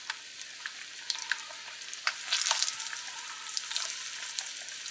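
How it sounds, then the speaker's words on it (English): Steady sizzling and crackling of eggs frying in hot oil, with sharp spattering pops scattered throughout and a louder burst midway. "be careful when you're frying your eggs"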